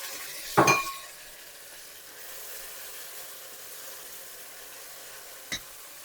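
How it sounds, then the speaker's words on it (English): Garlic, two teaspoons, drops into a pan of softening onions with a brief clatter, then fries in a faint, steady sizzle, with one small clink near the end. "in here now, we're going to put our garlic"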